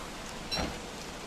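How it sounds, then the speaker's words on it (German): Rain in the video game Don't Starve makes a soft, continuous hiss with a brief slightly louder swell partway through, and no one speaks. "Weil es jetzt regnet"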